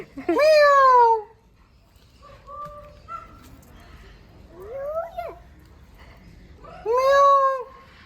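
At Vandaloor Zoo, a voice imitates a cat's meow: two loud, drawn-out meows at the start and end, with softer vocal sounds between them.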